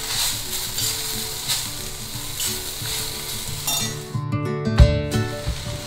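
Mint leaves and ginger sautéing in a pan for mint thuvaiyal, giving a steady close sizzle with stirring and a few sharp clinks near the end, over a constant tonal background hum.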